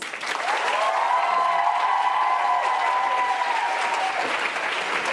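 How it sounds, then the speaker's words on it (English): Sustained applause from a large audience at a launch event, loud and dense clapping that holds steady throughout, with faint cheering mixed in. "Please give him a round of applause."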